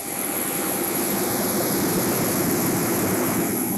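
Steady, loud drone of the KC-130J Harvest Hawk's propeller engines, a continuous roar with a high whine on top, heard close up and without interruption.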